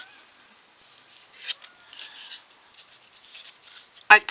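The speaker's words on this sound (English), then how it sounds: "I take my craft knife and I cut along these lines" Cutting along lines with a craft knife, faint close scratchy scraping strokes in short bursts, ending in one sharp louder snap, in an otherwise quiet room.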